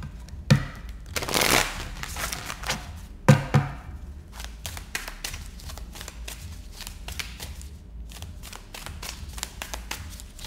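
Tarot cards being shuffled by hand at close range, two loud riffling bursts followed by a run of lighter taps, slides and soft card-on-card clicks, with no talking.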